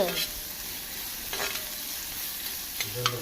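Onions frying in a pan sizzle steadily, with a few scraping stirs of a utensil against the pan, close up and without talk.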